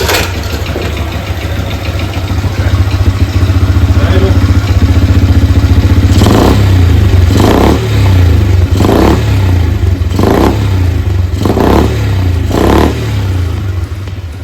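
Honda TRX70/90 ATV engine fitted with a quiet muffler, running loud and close with a throaty idle that breaks into a series of regular revving bursts in the second half.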